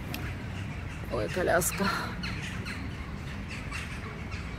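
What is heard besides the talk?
crows cawing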